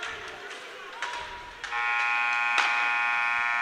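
An end-of-period buzzer at a university ice hockey game between UVic Vikes and SFU Red Leafs sounds loud and sustained after skating and stick noise, with crowd and an announcer's voice around it.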